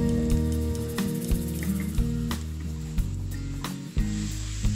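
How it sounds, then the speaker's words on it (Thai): Mushrooms stir-fried with fried garlic and shrimp sizzle in a pan, a close, steady hiss broken by sharp clacks of a utensil against the pan at irregular intervals. "แล้วก็ทำการผัดคลุกเคล้านะครับเห็ดให้เข้ากับกระเทียมเจียวแล้วก็กุ้งนะครับทำการผัดไปเรื่อยๆนะครับ"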